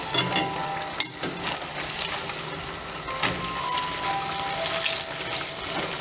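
Banana fritters coated in rice flour and maida batter sizzle in hot oil, a steady frying hiss broken by brief clatters as the pieces are turned one by one.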